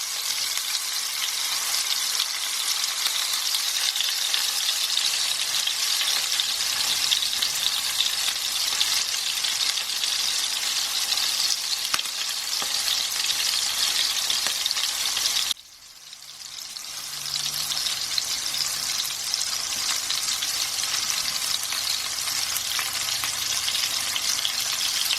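Chicken meatballs sizzle and crackle in a frying pan with a steady hiss, briefly interrupted by a short break as they are turned, then frying resumes.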